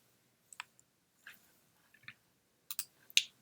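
Computer mouse clicks come in sparse, faint, close taps, some single and some in quick pairs, separated by near silence.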